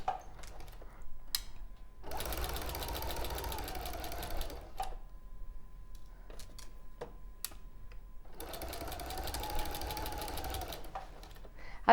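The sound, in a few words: sewing machine stitching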